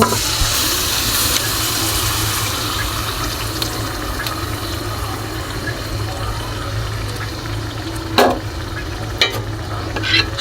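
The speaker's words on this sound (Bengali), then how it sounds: "সম্পূর্ণ গাজর আর ঘিয়ের সাথে দিয়ে একত্রে ভেজে নিতে হবে" Grated carrots frying in ghee in a pan for carrot halwa, a continuous dense sizzle and hiss with a few brief stirring scrapes toward the end, close and with no talk.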